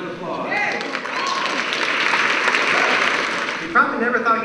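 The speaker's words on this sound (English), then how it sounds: "Another round of applause." Audience applause at a university new student convocation, a swelling wash of clapping that holds steady for a few seconds with faint voices mixed in.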